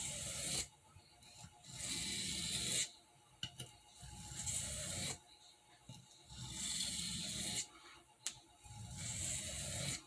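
An Uncle Henry sheath-point knife blade being drawn across a sharpening surface in repeated long, raspy strokes, about five passes with brief pauses between them, close and alone.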